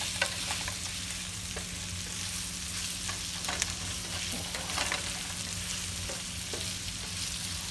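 Meatballs for spaghetti browning in a frying pan, a steady close sizzle with occasional scraping and clinks as they are turned, with no talking.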